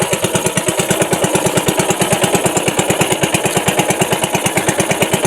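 A small fishing boat's engine runs in a steady, fast, loud chugging pulse, evenly repeated and close by, with no voices over it.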